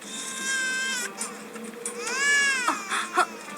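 A cartoon baby cries loudly in a Hindi animated ninja series, with long wailing sobs that rise and fall, then a few shorter catching whimpers.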